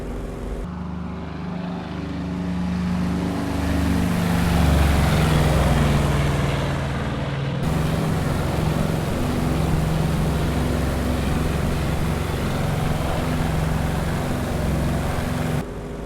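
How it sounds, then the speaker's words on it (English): An F4U Corsair propeller plane taking off in Microsoft Flight Simulator 2020, its engine a loud, steady droning roar that holds for the whole stretch with a slight shift partway through, with no voices. "Tail should start coming up at around 60 knots, and then we'll lift off just a little past that."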